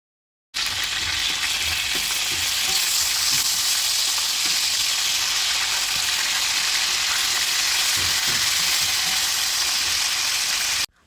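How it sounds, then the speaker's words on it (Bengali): Chicken pieces frying in a pan of hot oil for restaurant-style chicken biryani, a loud continuous sizzle with occasional stirring clinks, steady from start to finish with no talk. "এখন একটি প্যানের মধ্যে গরম করা তেলের ভিতরে একে একে মাংসগুলো দিয়ে দিব"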